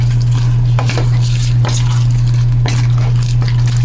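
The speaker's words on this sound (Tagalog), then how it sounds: "And then stir it again." Shrimp cooking in coconut milk in a pan is stirred with a utensil, giving irregular scrapes and light clatters over a constant low hum with a soft sizzle beneath.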